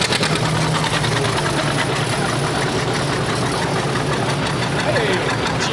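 An antique tractor, restored and running at a Pioneer Days parade, gives a steady low engine drone with a rhythmic knock throughout, close and loud under street noise and voices.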